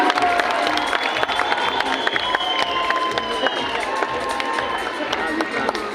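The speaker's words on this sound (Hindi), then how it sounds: "ताली कन्टिन्यू बस्नु पर्ने लेडिज एन्ड जेन्टलमेन।" A conference hall crowd keeps up loud, steady applause welcoming a chief guest at an anniversary event, with cheering voices and music mixed into the clapping throughout.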